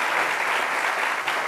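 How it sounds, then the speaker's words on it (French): Loud audience applause for a slam poet at a performance, a thick, continuous burst of clapping that fills the whole short moment. "Merci beaucoup d'applaudir très fort"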